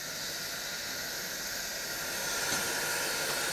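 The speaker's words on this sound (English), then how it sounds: "The steam lok brings this wagon back to the other wagons." A Furka steam railway locomotive hisses steam in Switzerland, a broad, continuous hiss that swells slightly louder toward the end, with no voices.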